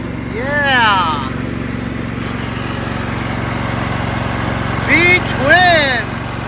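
A Craftsman LT1000 lawn tractor's V-twin engine idles with a steady low hum, smoking from oil buildup, while someone talks briefly at the start and again near the end.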